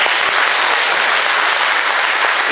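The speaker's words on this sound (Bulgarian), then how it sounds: "Нека пляскаме на Господ." A church congregation claps together in a sustained, loud burst of applause, dense and even throughout with no talking over it.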